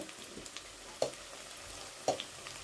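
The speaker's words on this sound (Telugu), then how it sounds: "ఆయిల్ కాగిపోయింది వేసేస్తున్నాను ఉల్లిపాయలు వేగుతున్నాయి" Onions and ginger frying in hot oil in a pan for Andhra fish curry, a steady soft sizzle with two sharper stir clatters about a second apart, close and moderately loud, with no talking.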